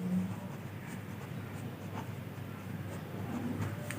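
Chalk or a marker scratches across a classroom board in short strokes during a Class 10 trigonometry lesson, the scraping soft and steady against a low room hum, with no talking.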